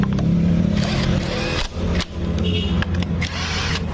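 Bolts get tightened on the CVT of a Honda Vario 150 scooter: loud, busy mechanical noise with a pulsing motor-like drone from a power tool, broken by brief dropouts and metallic clicks, with no talking.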